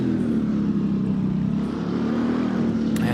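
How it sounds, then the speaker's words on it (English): Mercedes race car on a racing grid, its engine droning steadily and loudly throughout with a sustained, slightly wavering tone, as if passing nearby at speed. "Amazing sound and very different to other cars this car is producing"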